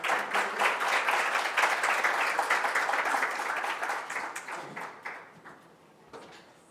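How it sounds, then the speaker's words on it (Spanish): An audience at a banking conference on social and environmental risk claps to welcome a speaker, a dense round of applause that tapers off into a few scattered claps within seven seconds. "La recibimos con un aplauso."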